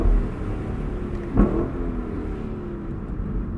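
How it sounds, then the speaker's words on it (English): A 2022 Lexus LC 500 Convertible's naturally aspirated V8 holds a low, steady rumble, with one short rev blip partway through, heard from inside the car with no talk. "A wonderful sounding V8."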